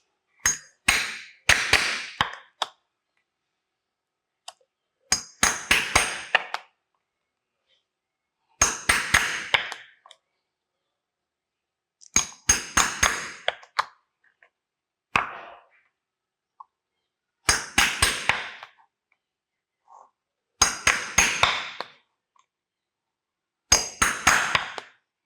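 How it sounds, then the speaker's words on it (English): Hammer blows drive a leather punch through leather into a wooden block beneath, landing in tight clusters of three or four sharp knocks, each burst separated by a few seconds of silence, close and clear. "get your leather punch and a hammer. Punch the holes where you have marked."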